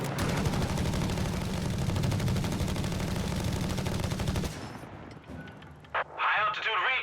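Dense, rapid machine gun fire from a Company of Heroes 3 battle, loud and sustained for several seconds amid heavy combat noise, then cutting off abruptly to quieter scattered battlefield sounds.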